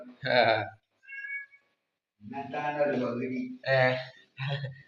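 A house cat meows several times up close, loud and drawn out, the calls spaced by short silences in a quiet room.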